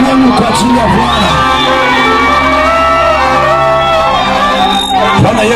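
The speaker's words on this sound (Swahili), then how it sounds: "Makofi mengi kwa ajili ya Bwana." A church congregation at a gospel gathering applauds and cheers loudly and continuously, with whoops and shouts rising over a dense crowd roar for the whole stretch.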